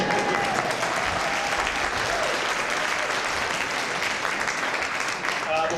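Audience at a Rand Paul presidential campaign event applauding loudly and continuously, dense clapping with crowd noise and some voices mixed in.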